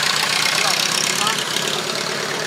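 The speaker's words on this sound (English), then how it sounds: "my 48 pan that I just finished restoring" A restored 1948 Harley-Davidson Panhead motorcycle with two front cylinder heads, a specially built cam, intake and exhaust, and KH racing carburetors idles with a steady, rough, close-up engine rumble.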